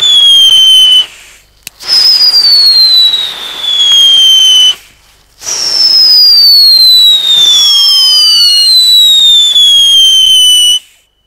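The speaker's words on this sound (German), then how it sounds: "Jetzt aber ein paar Luftheuler." Several whistling firework rockets shriek one after another, each a loud descending whistle, with brief quiet gaps between launches.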